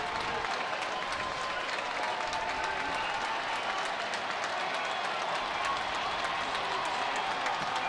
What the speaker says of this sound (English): applauding the effort by Bowling Green, who kills off the major power play